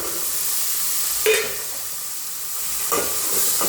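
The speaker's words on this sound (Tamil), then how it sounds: "சுண்டக்காய் சேர்த்துக்கிட்டு நல்லா வதக்கணும்" Turkey berries (sundakkai) are sautéed in a pan for sambar, giving a low, steady frying hiss with a couple of brief scrapes from stirring.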